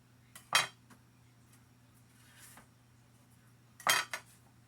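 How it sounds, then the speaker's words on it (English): A metal spatula scrapes under beef in a cast iron pan, two short sharp scraping clinks separated by a long quiet pause, close and fairly soft. "Slide that spatula underneath."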